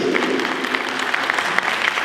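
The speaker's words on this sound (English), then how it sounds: "can you give a round of applause to a huge team that has been built to serve you?" An audience at an event gives a service team a round of applause, a brief, dense burst of many hands clapping at a steady moderate level with a few sharper claps standing out.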